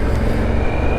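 A white truck passes on the road with a steady, loud, broadband rumble that stays close and even throughout, with no voices.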